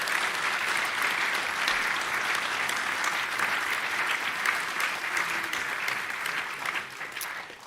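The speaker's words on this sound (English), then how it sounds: "So round of applause for the CDS." An audience at the annual Chief of the Defence Staff lecture gives the speaker a steady round of applause, dense, sustained clapping filling the hall for several seconds before tapering slightly at the end.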